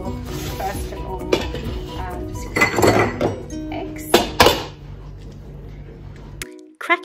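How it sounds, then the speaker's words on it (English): Eggs cracked into a bowl and beaten for a rolled omelette, with sharp clinks of shell and utensil against the bowl and a stretch of rapid whisking, close and fairly loud. "crack in the eggs and beat them"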